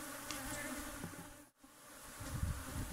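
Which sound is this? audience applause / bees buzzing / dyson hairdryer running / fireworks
bees buzzing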